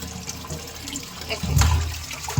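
Pointed gourds being rinsed in water, a close gentle slosh and trickle that swells into a louder gush of splashing water near the end.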